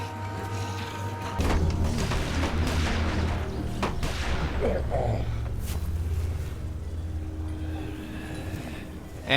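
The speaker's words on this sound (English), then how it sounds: "they walk away, being lured by the sounds of gunshots" Scattered gunfire rings out from a zombie-filled scene in Telltale's The Walking Dead game, a few sharp cracks over a dense, continuous rumble of music and ambience that persists throughout.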